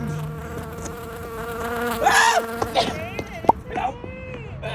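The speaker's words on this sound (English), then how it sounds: "We were fending off the wind and actual real-life bees." Bees buzz close by in bursts, their whining drone rising and falling over a steady background hum, with faint sounds in between.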